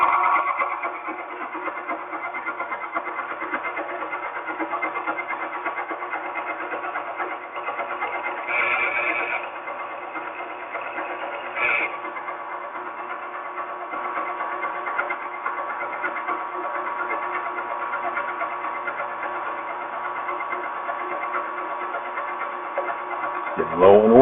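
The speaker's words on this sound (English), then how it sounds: "I'm set up in the drill press. I chucked up." A drill press bores a 1/4-inch hole through two steel plates clamped in a vise, a continuous whirring motor drone with grinding cutting noise, steady and close, with a brief louder burst near the end.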